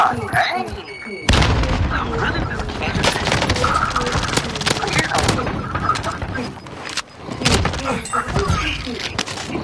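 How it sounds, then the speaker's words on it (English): Grenade blast and surrounding gunfire in the Warzone battle royale game, a sudden boom followed by a dense, rumbling wash of shots and explosions, loud and continuous. "Throwing grenade."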